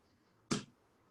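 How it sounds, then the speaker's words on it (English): Brief, quiet clapping from a small online open mic audience at a spoken word event, a single soft burst of a few hands lasting about a quarter second, faint and otherwise surrounded by near silence. "It's so weird, quiet clapping."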